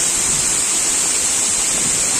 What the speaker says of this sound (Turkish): Savruk Şelalesi.